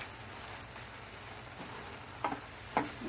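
Spices with salt and coriander powder frying in a pan for a mango shrimp curry, a soft steady sizzle with a couple of sharp spoon scrapes near the end, no voices.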